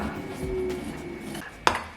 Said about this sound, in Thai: จากนั้นก็คนให้เข้ากันนะคะ